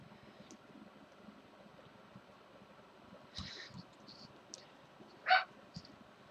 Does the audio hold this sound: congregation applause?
no